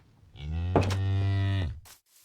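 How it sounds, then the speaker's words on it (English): A cow in the video game Minecraft lets out a single drawn-out, nasal moo lasting about a second, clear and close with nothing else around it. "Hello, cow."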